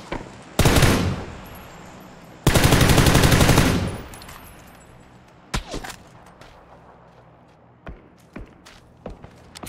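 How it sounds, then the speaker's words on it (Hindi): Gunfire in the video game PUBG: two long bursts of rapid automatic fire, then scattered single shots and thuds, loud and near. "हाँ इन पे राइट से भी गोलियां चल गई।"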